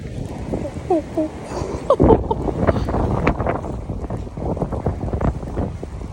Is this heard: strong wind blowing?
yes